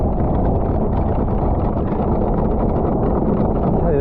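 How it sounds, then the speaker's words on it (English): A diesel-powered anchor windlass runs on a boat as a loud, steady low rumble mixed with wind buffeting, continuous and close, with no talking over it. "I'm really bloody pleased we got a diesel powered windlass."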